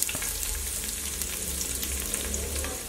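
Sliced onions fry in a pan for chicken rice, a dense, continuous sizzle close up with faint stirring scrapes, steady for a few seconds with no voices.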